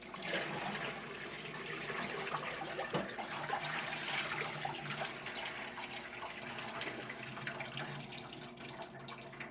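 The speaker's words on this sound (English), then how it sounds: "You drain the warm water off." Warm water rushes and gurgles steadily as it drains off a pot of pasta, a continuous quiet wash of liquid with a brief knock partway through.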